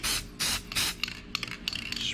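Three long hissing bursts from a spray can of dry film release agent being sprayed onto machined foundry patterns, then a few short clicking spurts and a final hiss.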